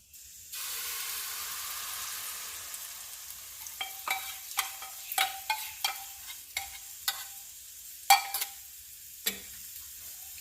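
A masoor dal and egg paste hits a hot pan, bursting into a loud sizzle that settles into steady quiet frying, with a series of sharp clinks from a utensil stirring and scraping the pan.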